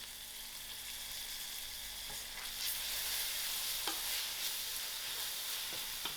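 Green chilies, curry leaves and ginger garlic fry with onion for a chickpea curry, a bright continuous sizzle up close with occasional scraping stirs and small pops, swelling slightly midway.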